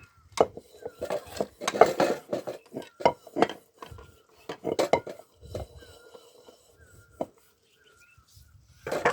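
Pots, pans and dishes are washed and scrubbed by hand at a village home, with close, irregular clanks and scraping bursts that come in quick clusters and then thin out toward the end.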